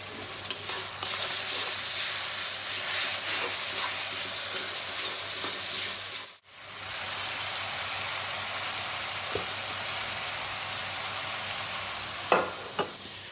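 Garlic and onion frying in a generous amount of hot oil for a homestyle winter vegetable dish, a loud, continuous close sizzle with stirring scrapes, briefly cutting out midway before resuming, no talking.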